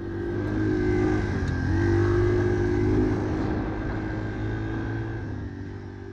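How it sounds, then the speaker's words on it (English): Four-stroke engine revving with a low-pitched growl, a steady close rumble that rises in the middle and then settles back, no speech. "the four-stroke is going to have a lower pitch kind of growl to the engine"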